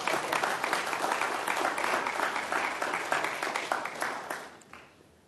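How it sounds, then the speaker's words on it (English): Audience at a school of public health's State of the School address breaks into sustained applause, dense clapping held steady for several seconds before tapering off at the end. "why don't you give them a round of applause anyway?"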